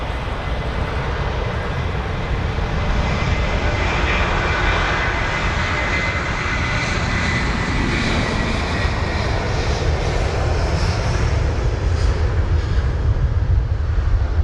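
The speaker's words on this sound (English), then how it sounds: "the Delta 330-200 on the move now" A Delta Airlines Airbus A330-200 jet moves along the ground at Heathrow, its engines producing a continuous loud rumbling whine that stays even and near for the whole stretch, heard alone.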